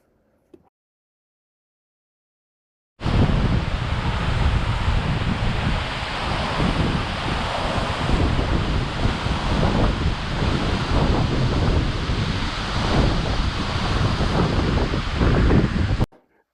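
Cascade Falls waterfall in Ouray, Colorado: a loud, continuous rushing roar of falling water that starts abruptly after a few seconds of silence and holds steady throughout, with some wind buffeting on the microphone.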